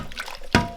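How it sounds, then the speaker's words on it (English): Water poured into a bowl of carrots makes soft trickling and sloshing, ending in a sudden close splash. "I'll just add a bit of water in there."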